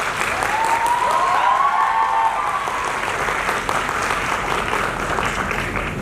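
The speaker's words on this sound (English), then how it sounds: "now I want to have a big round of applause from you" An audience at a live event gives a big round of applause, loud sustained clapping from a crowd that continues evenly throughout, with a faint tonal sound briefly audible early on.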